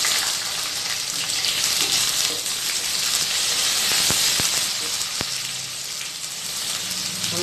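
Onions sautéing in a pan give a loud, steady close-up sizzle and hiss throughout, with a few faint taps from a utensil.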